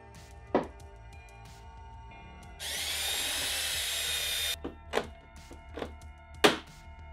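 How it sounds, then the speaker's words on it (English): A power drill bores a hole through a Club Car Precedent golf cart's Phantom body kit panel in one sustained two-second whine, framed by sharp knocks and thunks as rivets are set. "I'll start on one side and just go ahead and drill the hole and install the rivet"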